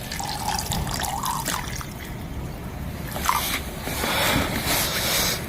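Water at a rolling boil in a cooking pot over an outdoor camp stove in the Ailao Mountain forest of Yunnan, making a steady, close bubbling and hissing wash that swells slightly toward the end.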